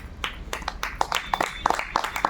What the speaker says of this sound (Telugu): ఒకసారి గట్టిగా చప్పట్లు కొడదామండి.